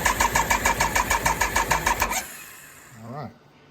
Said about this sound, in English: We'll turn the key on and we will crank.